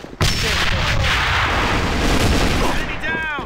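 A grenade detonates in the online shooter A.V.A with a sudden loud blast, followed by a long roaring, rumbling tail that fades slowly.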